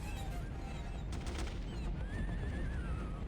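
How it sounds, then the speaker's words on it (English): Faint gunfire in the 1998 video game Turok 2 sounds from somewhere off in the distance, with a short cluster of bursts under a low, steady game background. "Still hearing gunfire for somewhere and I don't know where."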